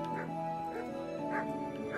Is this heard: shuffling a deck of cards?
no